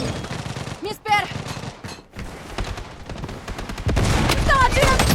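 Pistol gunfire in the shooter game Blood Strike's hot-zone mode: loud bursts of rapid shots and crackling fire, with in-game voice callouts and electronic blips over the noise.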